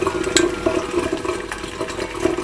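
Ethanol solvent boils in a Soxhlet extractor during a mandarin extraction, making a close, steady bubbling gurgle broken by small irregular pops.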